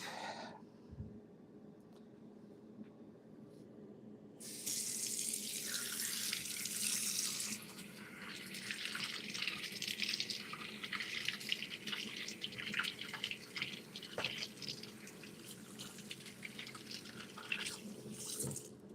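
Water runs from a kitchen sink tap while lettuce is washed, starting as a faint trickle and then turning into a strong steady splashing stream for most of the stretch.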